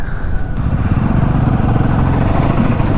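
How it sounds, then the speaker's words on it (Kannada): Motorcycle engine running steadily through a ride out of Bengaluru toward a cafe in Tamil Nadu, a loud continuous low drone with wind noise and no talking. "ಇವತ್ತು ನಾನು ದರ್ಶನ್ ಮತ್ತು ಪ್ರವೀಣ್ ಸೇರಿಕೊಂಡು ರಾಕಿ ರಿಚ್ ಕೆಫೆಗೆ ಬ್ರೇಕ್ಫಾಸ್ಟ್ ರೈಡ್ ಹೋಗೋಣ ಅಂತ ಹೋಗ್ತಾ ಇದ್ದೀವಿ"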